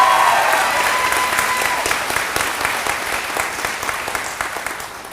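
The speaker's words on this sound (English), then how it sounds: "let's give them a round of applause" An audience at a 2022 graduation ceremony breaks into steady, full applause that holds for several seconds and slowly tapers off, with no voices over it.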